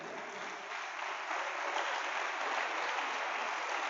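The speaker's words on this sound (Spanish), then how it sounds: "Denle un aplauso al Señor." A church congregation applauds, a continuous, even roar of clapping that swells slightly and stays steady, heard at a moderate distance with no talk over it.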